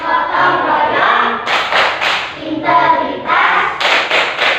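A class of pupils performs the tepuk PPK, a group clapping chant in an Indonesian school, with bursts of rhythmic clapping alternating with shouted group chanting, loud and close.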